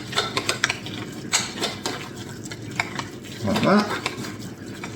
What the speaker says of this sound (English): and then stir that all in